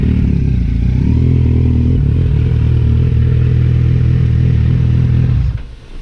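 Heavy motorcycle engine running loud and close with a steady low rumble, cutting off abruptly near the end; no speech.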